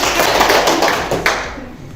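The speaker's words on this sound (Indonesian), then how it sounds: "Kelompok 2, hasil kerja kelompoknya bagus sekali. Mari kita berikan tepuk tangan" Classroom applause for a student group presenting their project, a short burst of many hands clapping close by that fades out within about two seconds, no talk.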